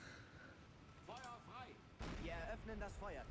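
In the Silent Hunter 3 submarine game, a deck gun fires at a ship, landing as a single low boom midway through, amid other tonal game sounds.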